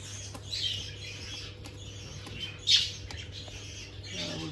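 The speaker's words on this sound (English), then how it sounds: "Couple of birds in there." Several birds in an aviary squawk and chirp intermittently against a steady low hum, with one sharper, louder call standing out midway.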